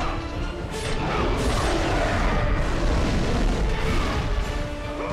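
An enemy blows apart in God of War II amid a loud, dense rumbling crash of game explosions and clashing mechanical noise that keeps going for several seconds, roaring near and heavy.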